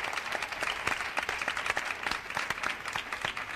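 Loud, dense applause for a singer, the winner of La Voz Kids from Chiclana, at a live event, with sharp individual claps standing out over a sustained crowd roar.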